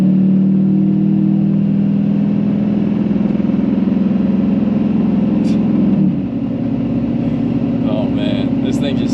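A truck engine hauling a trailer drones loud and steady up a hill, a low rumbling revving that holds constant and shifts slightly partway through, with faint higher clicks near the end.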